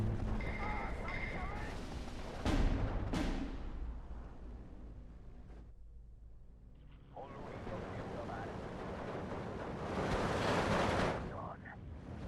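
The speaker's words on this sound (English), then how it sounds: "I'm going to bring a bombing strike over to the left" A bombing strike hits in Steel Division 2 with heavy explosions, one sharp double blast early and then a long rolling burst of detonations later, all over a dense background rumble.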